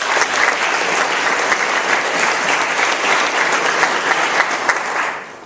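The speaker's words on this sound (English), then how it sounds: "So Keren Kabambi, let's give her a round of applause." Loud, sustained applause from an audience, a dense wash of clapping that holds steady and then begins to fade at the end.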